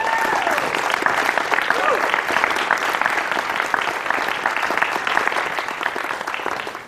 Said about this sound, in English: Please give a round of applause to Dave School.